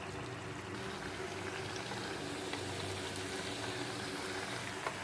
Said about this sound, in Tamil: ஸ்மைலி இப்போ எண்ணெயில் சேர்த்துக்கோங்க. நல்லா பொரிஞ்சு வரணும்.